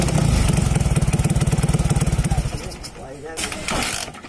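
A TVS Flame motorcycle engine fires up and runs with a fast, loud, close putter of rapid regular pulses, then drops away into quieter clatter and handling noise.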